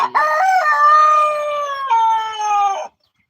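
A single rooster crows loudly and close by at a rabbit barn, a long drawn-out call with a brief break midway, then silence.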